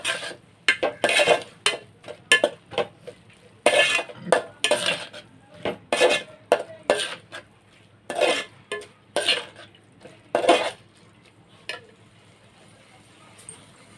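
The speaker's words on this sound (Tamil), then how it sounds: "அதையும் நல்லா கிளறி விட்டுடலாம்." Tomato rice is stirred in a pan, with repeated scraping and clinking strokes of a spoon in an uneven rhythm, close and fairly loud, and a faint sizzle underneath.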